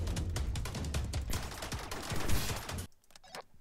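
Rapid bursts of gunfire from a Rec Room shooter match, dense and loud for nearly three seconds before dropping off, with a few scattered shots trailing in the quieter end.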